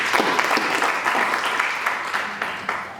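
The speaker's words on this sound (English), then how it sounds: "A round of applause for him once again." A workshop audience at Strathmore University applauds a panelist, a steady burst of clapping from a room full of people that carries evenly for the whole three seconds.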